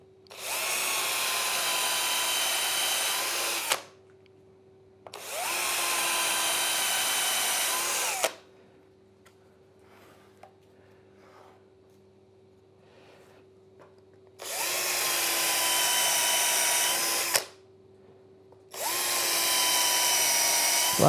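A power drill bores through wood while trestles are being built, in four loud sustained whirring bursts of three to four seconds each, separated by quiet pauses with faint handling noises.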